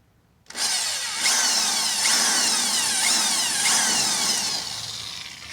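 A power drill starts abruptly and whines continuously at close range, its pitch shifting slightly as it bores while front brake lines are mounted on a 1966 Plymouth Fury, with no talking.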